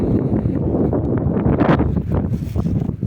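Strong wind buffeting the microphone on a high mountain pasture, a rough, gusty low roar that surges and eases unevenly across the whole stretch.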